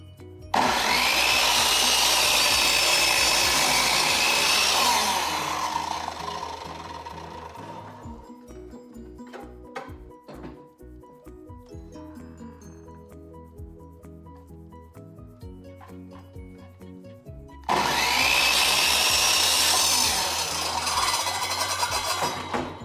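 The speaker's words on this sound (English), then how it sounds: "I'm just gonna be using the chop saw and cutting them in half" Chop saw cutting boards in half for raised garden beds, two long loud whining cuts at the start and end with quieter clunks, knocks and handling noises between them.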